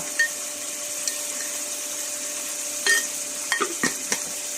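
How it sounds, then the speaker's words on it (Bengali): Onion paste being stirred in a frying pan for a potato curry with chicken neck, wings, feet and liver, a steady soft sizzle broken by a few sharp scraping clicks near the end, with no one talking. "পেঁয়াজ বাটা, দিয়ে একটু নাড়াচাড়া করে নেব"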